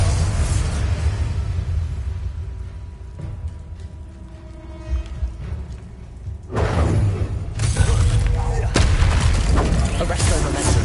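Bombarda blasting spell in the Hogwarts Legacy video game: deep, rumbling explosions, with a heavy boom partway through that swells into loud, sustained blast noise over low in-game ambience.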